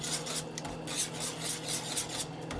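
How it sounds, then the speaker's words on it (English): A whisk scraping around a pot while crumbled ingredients are stirred into a shrimp and grits dish, giving a soft, rhythmic rasping and rubbing of metal against the pot, quiet and continuous. "Alright, whisk them in."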